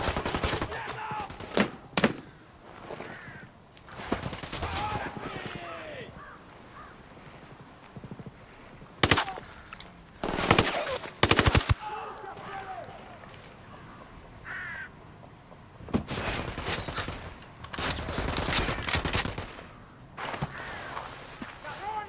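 Gunfire bursts in a PS5 shooter set during a cartel rescue mission, sharp broadband volleys in several clusters spread across the stretch, loud and close, separated by quieter footsteps and ambient game noise.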